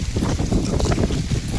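Strong wind buffets the microphone outdoors under a darkening sky, a continuous loud, low rushing roar with gusty fluctuations and no speech.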